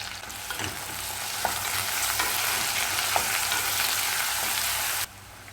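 Ginger garlic paste frying in a pan, a dense continuous sizzle with faint stirring scrapes, close and steady, cutting off abruptly near the end.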